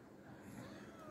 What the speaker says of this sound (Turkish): 20'den fazla kedi var bak.